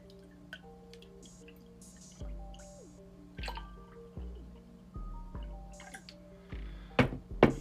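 Imperial stout beer pours from a can into a glass, with gurgling glugs and bubbly liquid sounds in uneven bursts that grow louder toward the end, close up with no talk.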